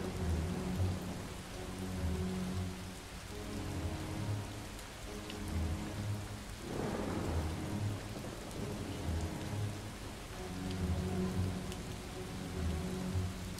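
Steady rain and a rolling rumble of thunder in an indie game. The rain patters continuously at moderate loudness, with a low rhythmic pulse underneath and one louder thunder swell in the middle, and no talking.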